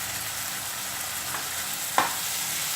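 Spices and red chili powder are stirred into a frying pan for chili paneer with red sauce, giving a faint, continuous scraping sizzle close by and one sharper scrape near the end.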